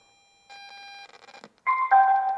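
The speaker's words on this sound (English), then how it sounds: "that's the sound of it linking to it" A Retekess TR626 AM/FM/shortwave radio beeps as it pairs over Bluetooth: a steady tone, a stuttering run of short electronic blips, then two louder rising chimes close up with no talk.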